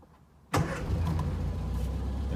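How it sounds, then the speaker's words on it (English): A Morris Minor 1000 vintage car engine cranks and fires at once after brief quiet, settling into a steady, close idle with a low rumble that continues to the end. "What I like about this car is how easy it fires up."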